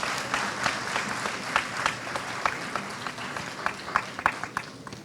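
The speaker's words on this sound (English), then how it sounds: "Give them a big round of applause for the Shloka class and the teachers." An audience at a school annual day function applauds a Shloka class and their teachers, with a sparse crowd of clapping hands marked by scattered sharper claps standing out, fairly close and without speech.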